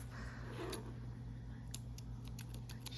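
A few quiet snips of scissors cutting yarn click sharply over a steady low hum, spaced irregularly through the short stretch.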